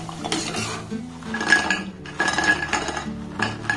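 A metal strainer clinks and scrapes against a pan while lifting fried snail-shaped pithas made with ripe palm, with repeated close metallic knocks and jingles in uneven bursts.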